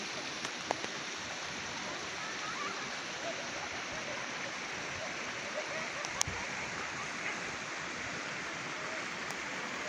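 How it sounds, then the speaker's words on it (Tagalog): River water flowing steadily, a broad, continuous rushing wash that holds level throughout, with a few faint clicks on top. "Iba po ilog namin dito."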